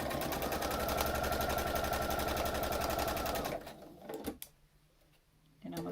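A sewing machine stitches a fabric mask in a rapid, steady whir that runs for about three and a half seconds, then stops, leaving quiet handling noises before it briefly starts again.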